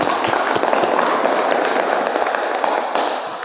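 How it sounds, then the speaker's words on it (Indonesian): Classroom applause for a student group after their presentation in an automotive clutch-system lesson, a dense steady patter of many hands clapping that fills the room for a few seconds before easing off. "Berikan tepuk tangan untuk kelompok 3 ya."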